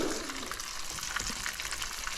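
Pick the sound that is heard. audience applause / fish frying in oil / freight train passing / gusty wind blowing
fish frying in oil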